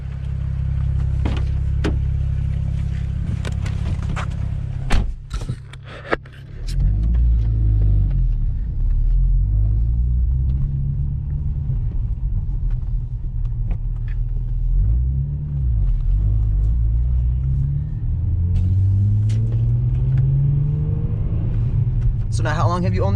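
A 600 hp single-turbo BMW 335i engine, a deep, loud, close rumble that dips briefly, then surges and climbs through several rising revving sweeps and holds strong to the end.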